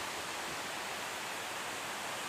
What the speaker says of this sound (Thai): มีน้ำตก ที่ทางหน้าผาก็มีตัวหนังสือเขียนว่าถ้ำนางแอน